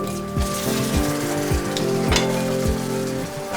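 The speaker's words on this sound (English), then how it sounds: "Plain caramelized caster sugar." Plums sizzle hard in caster sugar caramelizing over high heat, a steady dense frying hiss broken by several brief scraping stirs, close and loud with no voices.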